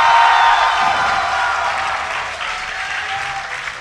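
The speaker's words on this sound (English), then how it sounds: "give a cheer for EG's Idra" A large esports crowd at Dreamhack during a StarCraft match cheers and applauds loudly, a dense wash of clapping and shouts that slowly fades.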